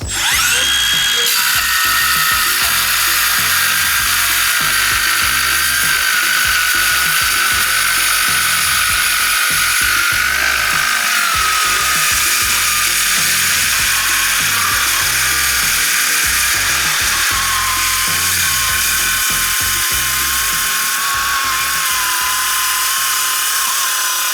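A cordless circular saw with a 5 1/2 inch blade cuts through 1/4 inch thick stainless steel Unistrut, a loud sustained grinding whine that shifts pitch as it bites, running continuously throughout.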